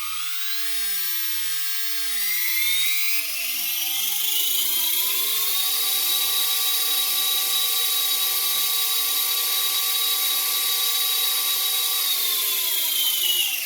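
A small RC helicopter's electric motor, driven through an Avian SMART 60A ESC, spins up with a rising whine that climbs in steps and then holds a steady high-pitched tone, loud and close with no talk.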